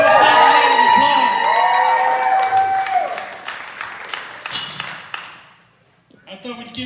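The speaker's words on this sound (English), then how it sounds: "Give us a round of applause." Theater audience at a comedy show in Alpine, Texas clapping, mixed with crowd noise and a ringing tone early on, tapering off and fading before a brief resumption.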